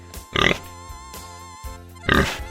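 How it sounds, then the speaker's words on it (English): A pig grunts and oinks in two short bursts, one near the start and one near the end, with a quieter stretch between them and no talk. "Pig."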